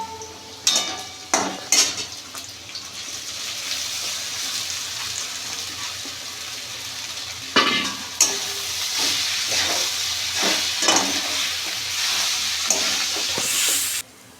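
Soaked, drained flattened rice is tipped into a hot frying pan with a dried red chilli, setting off a steady bright sizzle broken by several sharp scrapes and clinks of a spatula against the pan.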